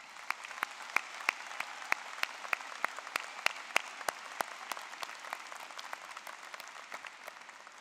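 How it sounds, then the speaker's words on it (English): Audience applause at a university commencement ceremony for a college of liberal arts and sciences, steady clapping from many hands with a few crisp individual claps standing out, fairly distant and even throughout, no voices. "it is worth taking a moment as a community with our family and friends to acknowledge and applaud this aspect of your achievement"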